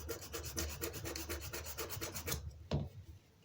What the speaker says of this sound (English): 100 grit, hand sanding.